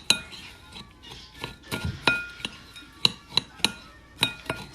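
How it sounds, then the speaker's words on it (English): A spoon stirs butter into graham cracker crumbs in a bowl, giving quiet irregular scraping with a string of sharp clinks against the dish. "I'm going to stir that up until that is all blended"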